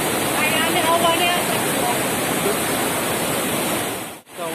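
A waterfall in the forest pours as a dense, steady rushing roar that fills the air without pause, then cuts out sharply near the end.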